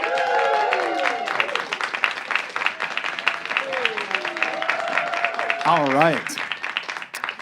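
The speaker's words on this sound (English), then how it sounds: "Give a big round of applause." An audience gives a round of applause for comedians at a comedy show, clapping rising under a host's talk and swelling again near the end, with voices over the noise throughout.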